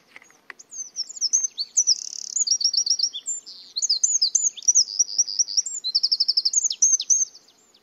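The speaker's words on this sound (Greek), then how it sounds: "ακούστε για λίγα δευτερόλεπτα πόσο όμορφα και λαϊδάει ο τρογλωδίτης" A wren sings a long, bright, rapid song of trilled and chirping phrases, close and clear against a quiet background, with no voices.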